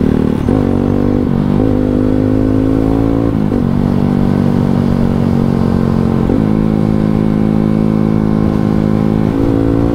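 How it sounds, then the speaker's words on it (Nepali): A motorcycle engine runs steadily close by on a rough road, its pitch rising and falling as it shifts and revs, with a rattling, bumpy drone from the rough surface. "बाइकको आवाज"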